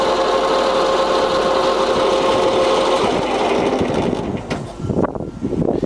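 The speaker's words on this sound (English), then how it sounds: "It's the next gear, we're in high range at the moment I think." A San Yuen GF2000A centre lathe runs in its high gear range with a steady, close whirring mechanical drone, then the tone dips and wavers briefly as the gear changes near the end.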